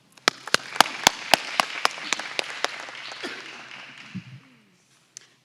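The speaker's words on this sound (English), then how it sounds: "if you can give her a round of applause, Tara Brown" Audience applause for a newly introduced HR assistant director at a parent education evening, starting with sharp distinct claps from a modest crowd that thin out and fade over about four seconds, with a brief murmur near the end.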